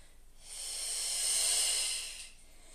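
A long, soft breath out through the mouth during a yoga exercise, a gentle airy hiss that swells and fades over about two seconds in a quiet room.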